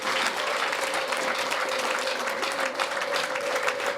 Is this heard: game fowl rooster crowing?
no